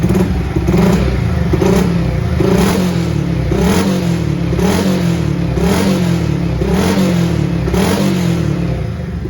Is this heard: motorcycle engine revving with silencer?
yes